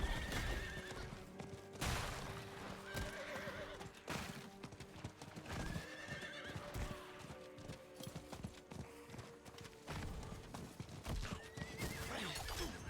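A horse in a video game neighs several times over continuous clip-clopping hooves, the sounds fairly close and steady across the whole stretch with no talking.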